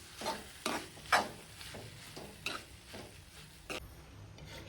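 Pasta tipped into a pan and stirred in a home kitchen, with several clinks and scrapes of a utensil over a faint sizzle, fairly quiet and close.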